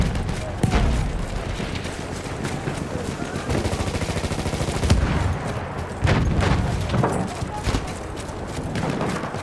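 Parabellum machine gun in Battlefield 1 rattling in bursts of rapid gunfire with booms, dense battle noise throughout, under someone talking.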